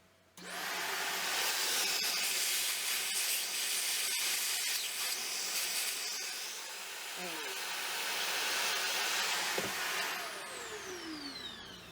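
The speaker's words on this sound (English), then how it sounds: "That vacuum cleaner works so well" A vacuum cleaner roars steadily for about ten seconds, loud and close, with a brief dip in pitch midway before it winds down.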